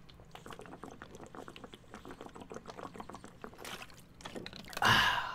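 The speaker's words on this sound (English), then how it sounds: "But first, I'm going to drink some of this water." A person drinks water from a container, with liquid sloshing and gulping sounds running close and fairly quiet throughout, ending in a louder burst near the finish.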